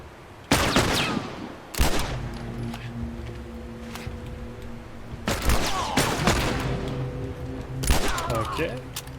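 Gunfire from The Last of Us, several loud separate bursts of shots spaced a few seconds apart, with someone talking between and over them.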